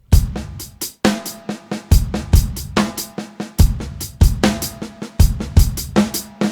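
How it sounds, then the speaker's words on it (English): A drum kit plays a steady rock groove, with punchy bass drum hits, including an extra kick on the and of beat three, and sharp snare backbeats ringing loud and close with no talking. "So you might want to pour an extra bass drum here on the and of beat 3."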